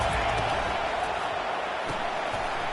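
A dense, steady roar from a packed stadium crowd at a football game, loud and continuous for the whole stretch, with no distinct voices standing out.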